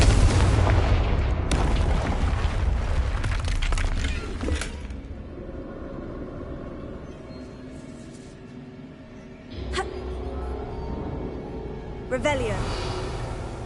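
A Confringo blasting spell in Hogwarts Legacy, a loud broadband explosion that rumbles and fades over several seconds, followed by further softer blasts and debris.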